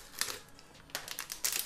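A clip-sealed bag of tortilla chips crinkles as it is opened, with a few sharp, dry rustling bursts close by in a quiet room.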